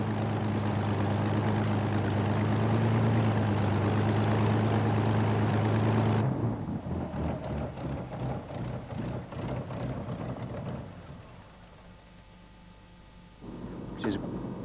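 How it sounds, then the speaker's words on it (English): A Spitfire's mighty Rolls-Royce Merlin aero engine runs loud and steady with a deep droning hum for about six seconds, then drops to a rougher, quieter idle that fades before a brief surge near the end. "No one was surprised that the mighty Rolls-Royce Merlin engine started first time."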